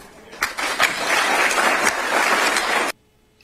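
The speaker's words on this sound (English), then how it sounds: "All the people applauding in the audience" Audience applause at a Florida political event, a dense sustained clapping from a crowd that swells quickly, holds steady for nearly three seconds, then cuts off abruptly.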